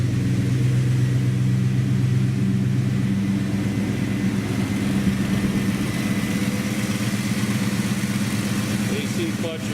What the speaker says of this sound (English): Fire it up. Starts right up.